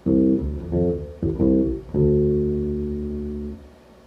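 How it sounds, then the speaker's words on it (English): Short, palm-muted bass guitar notes played one after another, the last one held longer and slowly fading out. "With the muted notes it would sound like this."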